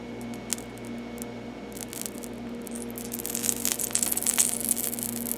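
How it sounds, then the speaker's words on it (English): Oil sizzling on a hot engine heater of a 1996 Ford F-350, a faint crackling, spitting hiss that builds louder after a few seconds over a steady low engine hum. "see all that sizzling?"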